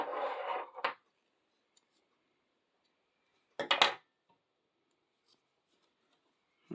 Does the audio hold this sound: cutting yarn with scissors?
yes